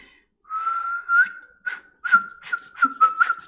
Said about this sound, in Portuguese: Soffiare em italiano, então, é assoviar ou assobiar.